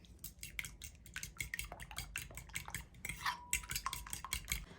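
A fork or whisk beats eggs in a bowl for egg fried rice, giving quick, rapid, faint clinks and taps against the dish in an uneven rhythm, with no voices.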